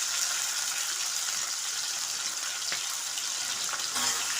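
Green chillies, curry leaves and tomato sauté in a pan with a steady, close, bright sizzle. A couple of faint clicks break through near the end, and no voice is heard.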